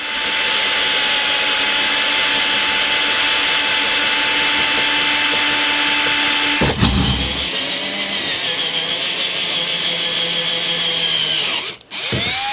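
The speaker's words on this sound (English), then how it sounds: "I'm going to drill a hole here so this thing can stick out of it" Power drill boring a hole through a Jeep JK bumper, a loud steady high whine that briefly cuts out, then resumes with a shifting, strained pitch as the bit works through the metal before stopping.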